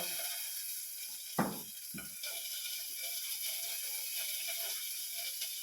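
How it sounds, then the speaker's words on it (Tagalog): Sausage cooking in a pan, a faint, steady broadband sizzle with a couple of brief clanks near the start, heard alone without talk. "Ito kasing sausage na niluluto ko ngayon"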